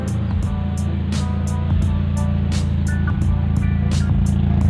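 A 2000 Timor DOHC car engine idles steadily at close range, a smooth continuous hum with faint rhythmic ticking on top.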